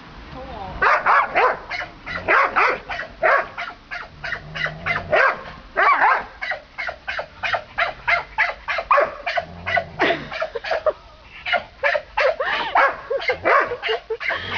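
Pet dogs Cocoa and Koby barking at play, a rapid run of repeated close barks and yips filling the clip with brief pauses, while a person talks over them.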